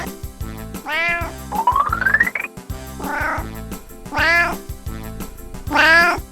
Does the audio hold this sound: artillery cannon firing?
no